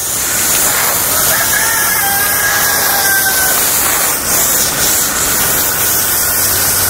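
A hose sprays water in a constant loud hiss, steady throughout, with a faint crowing rooster in the background.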